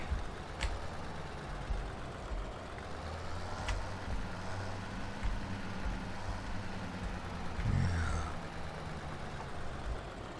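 A small farm tractor in the Farming Simulator 17 video game labours under heavy drag while pulling an implement, a steady low engine drone running throughout with a few brief clanks and a slight swell near the end.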